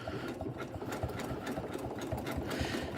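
A Janome M17 sewing machine runs a grass stitch, its fast, even mechanical chatter continuing steadily at close range with no talking.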